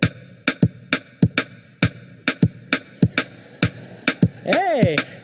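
Two interleaved streams of sharp percussive hits, four beats against three, repeat in a steady looping polyrhythm, close and clear, before a voice briefly speaks at the end.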